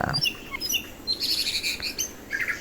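A white-rumped shama (murai batu) sings clear, bright whistles and chirps in short bursts, loud and close, with brief pauses between phrases.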